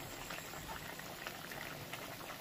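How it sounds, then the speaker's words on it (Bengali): A tengra fish curry with cauliflower and flat beans bubbles steadily in a pot, a soft continuous simmering hiss with faint liquid pops throughout, quiet and close with no talking. "দেখো টকবক করে ফুটছে"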